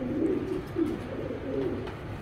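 Racing pigeons on a Bangladeshi farm coo softly nearby, several low, throaty warbles repeating in short bursts.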